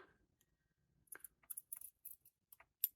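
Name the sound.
scissors trimming thread end of sewn fabric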